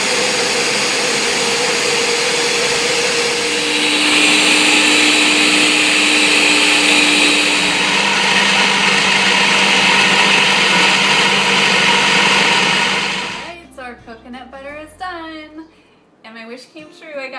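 Blender processing coconut into sugar-free coconut butter: a loud, continuous high whirring roar close by that holds steady for about thirteen seconds, then cuts off, followed by someone speaking.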